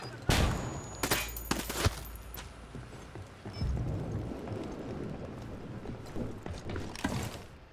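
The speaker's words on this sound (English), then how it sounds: "Throwing a flashbang." In Ghost Recon Wildlands, a flashbang grenade goes off amid gunfire: sharp bangs and rapid bursts come early, then a low rumbling tail with scattered later pops, all fairly faint.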